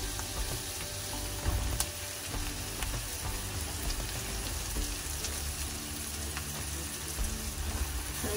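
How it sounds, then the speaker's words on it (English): Mushrooms hit a pan of browning garlic butter and fry with a loud, steady sizzle and crackle that holds close and continuous throughout, with a brief stir partway through and no voices. "With the butter starting to brown off nicely, I'm going to add the mushrooms."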